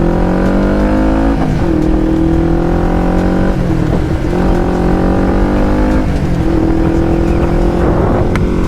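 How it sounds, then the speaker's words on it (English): A carbureted motorcycle with an aftermarket car muffler exhaust revs up repeatedly, loud and close, its engine pitch climbing in several long pulls separated by brief drops as the throttle resets. "Especially when you're getting the higher revs too."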